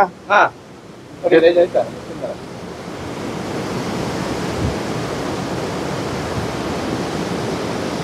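Lots of water rushing through a raised sluice gate, a broad, steady roar of flow that swells in after a few short bursts of talking near the start and then continues alone at an even level.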